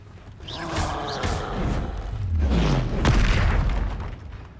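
Booming spell blasts and impacts from Hogwarts Legacy, with several deep thuds and rumbling explosions rolling over each other for a few seconds, all loud and close.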